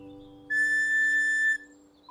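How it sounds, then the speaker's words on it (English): A single sustained toot on a cartoon whistle, a clear held tone lasting about a second over a faint musical background, marking a marching beat. "I'll toot the beat on my whistle for everyone to hear"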